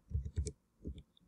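Computer keyboard keys typed to enter a web address, a few quiet close clicks in two short bursts with no talk.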